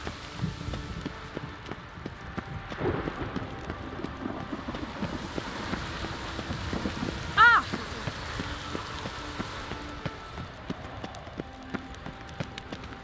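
Steady rainfall in the video game Witcher 3 patters softly and continuously, with faint hoof-like thuds beneath and a brief chime partway through.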